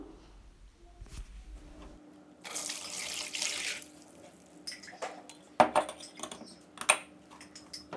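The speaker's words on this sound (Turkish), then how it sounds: "suyunu gördüğünüz gibi şimdi bir süzgecin içerisinde süzeceğim" Garlic-infused water poured through a sieve for orchid care, a rushing splash of water for a couple of seconds followed by scattered clinks and handling sounds of the strainer and dishes nearby.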